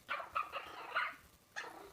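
Puppies in a room give four short, high yips and barks spaced unevenly, with quiet gaps between them and no talking.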